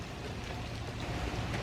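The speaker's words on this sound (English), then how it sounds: "And it really is raining." Rain falls steadily in a constant, fairly faint hiss of drops with no other sounds.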